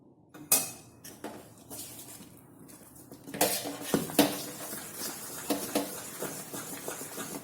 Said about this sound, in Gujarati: 1 ચમચી જેટલું તેલ આપણે આ બનાવેલા બેટરની અંદર લઈ લઈશું અને તેને મિક્સ